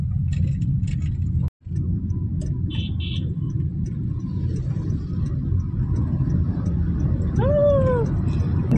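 Truck rumbling through a road tunnel, a steady deep roar heard from inside a moving vehicle, with a brief dropout and a short whistle-like tone near the end.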